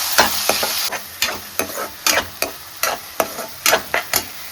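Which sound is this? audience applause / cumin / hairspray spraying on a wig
cumin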